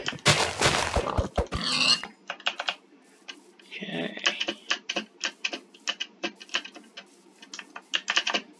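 Computer keyboard used during Minecraft play clatters in quick, uneven bursts of sharp clicks, loud and near, with a brief burst of heavier noise at the start.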